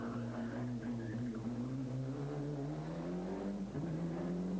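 A rally car engine at the 1993 Rally Ypres drones and revs under load, its pitch rising and falling steadily through gear changes, loud and sustained without pause.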